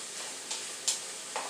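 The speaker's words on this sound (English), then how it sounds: "Is to saute and let these veggies sweat down" Vegetables sautéing in a pan for jambalaya, a soft steady sizzle with a few faint stirring scrapes.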